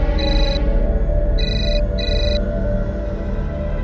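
A bright electronic ringtone trills in three short bursts over a steady low hum, clear and fairly close.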